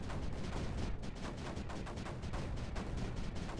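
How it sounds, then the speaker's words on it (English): Mortars in Creeper World 4 keep firing downhill in a dense, continuous barrage of overlapping booming shots, loud and steady throughout with no talk. "Mortars fire downhill."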